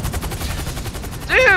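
Gunfire in GTA V Online on PC: a rapid, loud stream of automatic shots crackles close by for the whole burst, with a brief sharp shout near the end.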